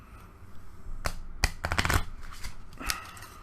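A deck of cards from the Ghostbusters II board game being quickly shuffled by hand, giving a few short, crisp riffling bursts that sound close and moderately loud over a quiet room.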